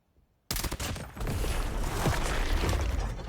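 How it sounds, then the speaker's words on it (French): An evolved weapon's elimination effect in a video game bursts in suddenly after a brief silence, a loud, dense crackling barrage of rapid bangs and clatters that keeps going to the end. "Regardez-moi cet effet d'élimination incroyable."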